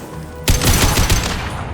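A sudden loud burst of automatic gunfire erupts in Mass Effect 2 Legendary Edition, sustained rapid shots rattling close and harsh for over a second after a quieter start.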